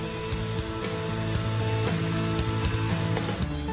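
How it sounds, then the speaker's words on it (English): Septic tank treatment tablets dissolve in a toilet with a continuous fizzing, hissing bubble sound, steady and close, without talk. "It's going to fizz and bubble."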